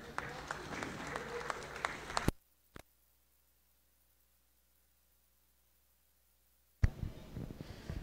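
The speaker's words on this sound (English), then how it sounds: "Kindly give them a round of applause." A round of applause at the launch of Yuka Saso postage stamps by the Philippine postal service, a crowd clapping for about two seconds before cutting to near silence, a lone click, then clapping returning briefly at the end.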